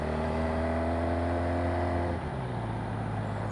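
A Suzuki GSX-R 600 sport motorcycle engine hums steadily at a high idle, then its pitch drops and settles lower about two-thirds of the way through, continuous and fairly close.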